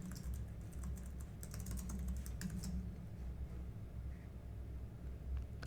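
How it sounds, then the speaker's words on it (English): A password being typed on a computer keyboard, a quiet run of rapid key clicks that is busiest early on and then thins to sparse taps, with no voices. "And confirm your password by typing it again."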